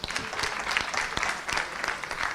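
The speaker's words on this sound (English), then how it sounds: "Can we give another round of applause for our amazing panelists?" A conference audience claps for the panelists after a panel discussion, a dense, steady round of applause from a crowd filling the whole moment.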